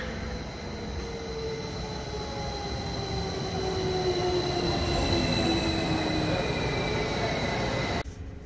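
An Abellio Westfalenbahn train bound for Münster rolls through the station with a loud, continuous rumble and long gliding wheel squeals that rise and fade, ending in an abrupt drop at the close.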